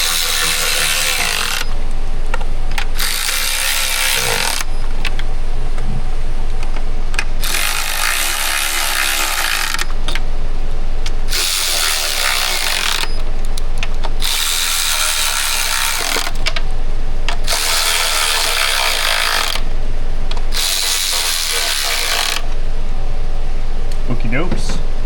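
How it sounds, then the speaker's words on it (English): Hand tools tightening fasteners and bracket bolts on an engine with a plastic oil cooler, bursts of loud hissing, whirring noise alternating with quieter gaps, repeated about six times, with some talk between. "I just got to tighten down those fasteners and then get the bracket bolts."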